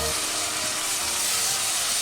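Red onions sizzle and fry in a pan for a red onion tart, a steady, close, dense hiss with no talking.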